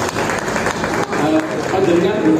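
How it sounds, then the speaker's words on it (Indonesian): Crowd applause at a village development planning meeting, a burst of clapping with some voices and chatter mixed in over a short stretch. "Tepuk tangan."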